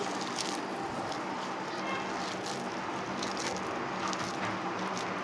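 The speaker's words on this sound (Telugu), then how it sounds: "జీలకర్ర పొడి ఒక స్పూను మిరియాల పొడి ఒక స్పూను ఇవన్నీ కలిపేసి వేసుకోవాలి ఇవన్నీ ఇలా బాగా కలుపుకోవాలి" Veg manchurian mixture being mixed by hand with cumin powder and pepper powder, giving a steady, soft squishing and crackling texture close to the microphone, continuous throughout with no talk.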